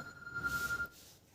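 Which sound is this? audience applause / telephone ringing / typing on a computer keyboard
telephone ringing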